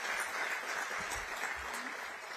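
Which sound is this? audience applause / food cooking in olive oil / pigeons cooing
audience applause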